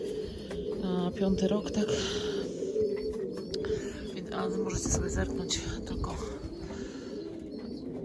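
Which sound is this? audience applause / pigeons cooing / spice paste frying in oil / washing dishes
pigeons cooing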